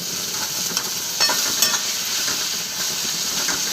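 Curry leaves and coriander crackle and sizzle in hot oil for an aubergine dish, a loud, continuous fry with a few sharper spatters.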